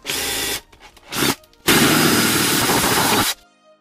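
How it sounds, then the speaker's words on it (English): An electric drill whirs in bursts drilling a hole for a DIY camera float rig: a short run, a few brief stutters, then a longer steady spin that stops abruptly. "I'm trying to drill the hole on camera"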